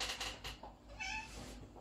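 A nearly three-year-old house cat meows a few times at close range in a home kitchen, its short cries rising over a steady background hum.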